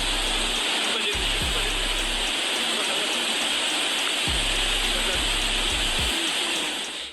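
A rain-swollen river rushes during a Caribbean tropical storm, a broad, loud and continuous roar of water with occasional low rumbles beneath.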